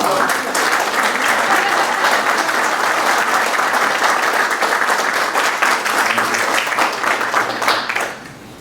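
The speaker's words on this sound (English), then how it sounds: "would Larry Link stand up for some applause?" An audience at a gallery talk gives Larry Link sustained, dense applause that stays strong and even for about eight seconds, then quickly fades out at the end.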